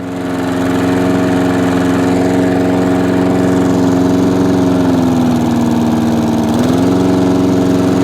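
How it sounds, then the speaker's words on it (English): An old Mountfield push mower with a roller runs at a steady idle. Its engine drone is loud and close, holding even and dipping briefly before it recovers near the end, with no talking. "It runs well. For an old machine, it's a big little push mower with a roller."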